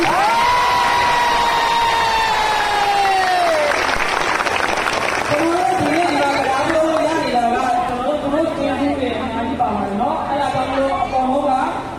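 Union members at a shoe factory meeting break into applause, a dense wash of clapping and cheering that swells after a speaker's voice, with talk and crowd chatter continuing over the clapping.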